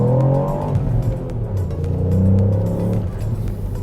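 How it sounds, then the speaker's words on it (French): Ford Puma ST compact SUV pulling hard in sport mode with maximum engine performance settings, its engine note rising and falling steadily as it revs up through the gears, heard from inside the cabin without any talk. "on va tester un peu le mode sport dans sa configuration moteur avec les performances maximales"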